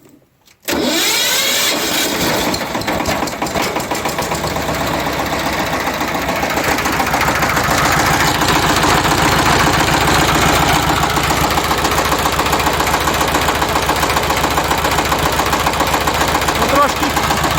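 A Shifeng 160 mini tractor engine fires up abruptly and runs at a loud, close, steady throttle with a rough mechanical rattle and vibration, holding constant for the rest of the stretch.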